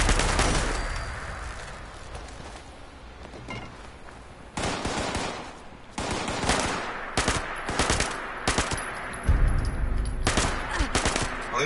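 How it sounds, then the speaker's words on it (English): Rapid bursts of video game gunfire from Fallout 76, with clusters of sharp shots and sustained automatic fire that grow louder and denser toward the end, sitting over a busy game soundscape. "I'm still being shot at."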